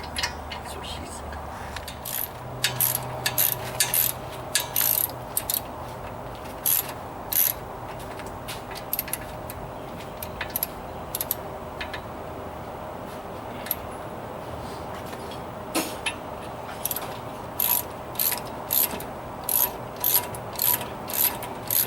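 A ratchet clicks steadily in repeated bursts of sharp, close metallic ticks while front brake rotors are being replaced on a GM crossover in a garage, with a faint background hum.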